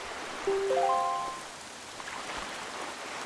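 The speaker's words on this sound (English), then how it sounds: "this place suffers under dark clouds and rain" Steady rain falls on a cursed island under dark clouds in The Legend of Zelda: The Wind Waker HD, a continuous hiss with a soft synth melody rising briefly near the start.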